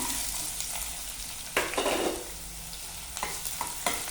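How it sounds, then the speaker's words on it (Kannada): Chopped medium-sized onion stirred into hot oil in a pan while making egg curry, a steady sizzle with sharper bursts of scraping and stirring, close and fairly quiet throughout. "ಮೀಡಿಯಮ್ ಸೈಜ್ ಒಂದು ಈರುಳ್ಳಿ ಕಟ್ ಮಾಡಿ ಇಟ್ಕೊಂಡಿದ್ದೀನಿ ಸೇರಿಸ್ಕೊಳ್ಳೋಣ"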